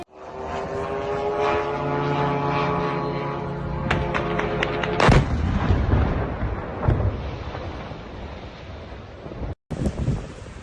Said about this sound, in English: 8 drones targeted the area, with one striking the upper floors of a high-rise residential building